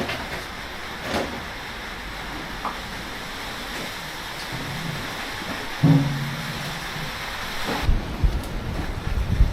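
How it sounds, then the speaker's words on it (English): Steady rain heard from inside a building, a broad constant hiss with occasional louder patters and knocks nearby, no talking. "You can really hear in here when it's raining."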